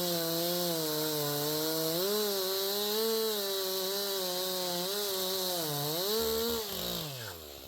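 A chainsaw with a sharp chain cuts into a leaning tree, a loud, close, steady whine holding at high revs as it bites into the wood, then slowing and trailing off at the end.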